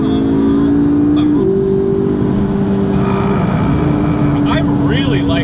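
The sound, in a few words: McLaren MP4-12C accelerating after downshifts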